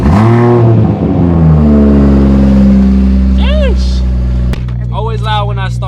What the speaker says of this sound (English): Cold start, but not really a cold start.